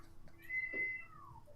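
A cat meows outside a window, a single drawn-out faint cry rising then falling, heard alone over quiet background.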